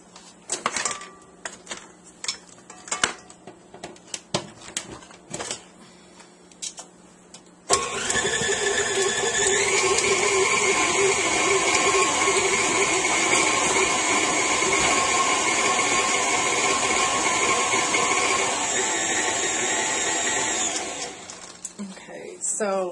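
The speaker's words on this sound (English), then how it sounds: "Plug in the mixer." An electric mixer switches on after some brief talking and handling noises, then whirs loudly and steadily through peanut butter cookie dough made with creamy peanut butter before winding down near the end.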